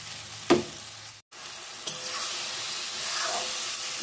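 Eggplant goes into spices already frying in a pan and gets stirred, giving a steady soft sizzle and hiss with one brief clatter from the spoon near the start.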